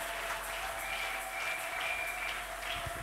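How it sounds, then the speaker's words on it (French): Applause from a congregation at a church service, a steady dense patter of clapping filling the room, continuous and fairly loud with no voices on top. "nous applaudissons le Seigneur pendant qu'il s'avance"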